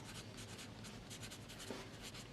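A Callissima fountain pen nib scratches across paper in short rhythmic strokes, soft, close and steady with no voices.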